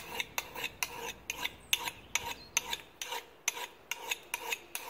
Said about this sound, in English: Just a flat chainsaw file.